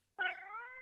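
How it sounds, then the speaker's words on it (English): A cat meows once outside, wanting to be let in: a single drawn-out, fairly loud wail of nearly a second that starts sharply and holds steady. "That cat want to come in. I feel sorry for that cat."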